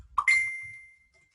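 A single bright phone notification ding, clear and close, with a short ringing tail, heard during a computer tutorial.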